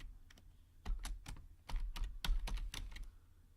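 A computer keyboard is typed on in a quiet room, a short run of quick, close key clicks in uneven rhythm, fairly soft, with no voices.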